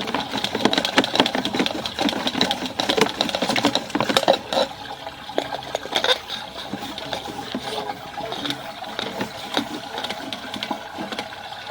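A sewer ejector pump running during a sewer line inspection, a mid-pitched mechanical hum with rapid clattering and knocking, steady throughout at moderate loudness.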